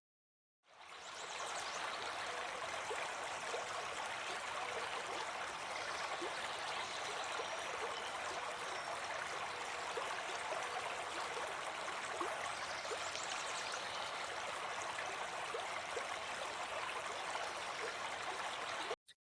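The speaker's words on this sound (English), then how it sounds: "I hope you all heard the sound of flowing water." A flowing river rushes in a steady, even wash of water noise that holds for nearly twenty seconds with no voices.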